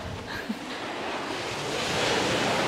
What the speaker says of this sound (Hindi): High tide आई जा रही है। Too high tide.